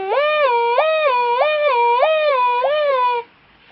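A voice imitates an ambulance siren with a rhythmic, wavering up-and-down wail, repeated evenly for about three seconds before stopping.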